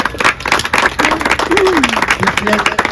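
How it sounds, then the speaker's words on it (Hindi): Loud, rapid clapping from an audience at the 15th anniversary celebration of Dr Beg's Child Care in Lucknow, honouring the staff, with voices calling out over the applause. "सबके लिए भी जोरदार तालियां हो जाए।"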